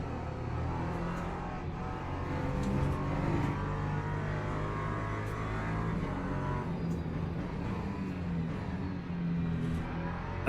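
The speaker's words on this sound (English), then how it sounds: "now we've got the LMP2s coming through on us as well" LMP2 prototype race cars passing at Silverstone in a racing game, a steady engine drone with rising and falling pitch as cars come through, held at an even moderate level throughout.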